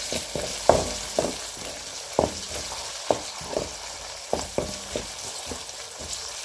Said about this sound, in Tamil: தக்காளி நல்லா குலைவாக வதங்குற மாதிரி வதக்கிக்கணும்